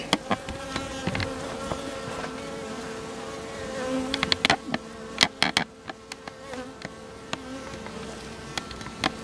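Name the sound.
honeybees buzzing at hive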